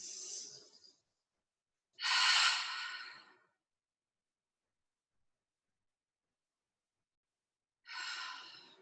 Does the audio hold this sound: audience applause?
no